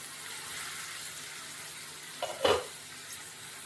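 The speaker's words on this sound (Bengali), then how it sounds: "এবার ঢাকা দিয়ে মশলাটাকে একটু কষিয়ে নেব" Masala for aloo kosha (spiced potato curry) frying in a pan while being stirred, giving a faint, steady sizzling hiss with one brief louder scrape of stirring.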